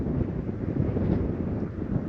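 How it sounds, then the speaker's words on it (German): Strong wind on the Arctic Circle Trail in Greenland, high in a valley at about 440 metres, roars as continuous buffeting gusts against the microphone, loud and rumbling with no voices. "Hier pfeift auch ein ordentlicher Wind."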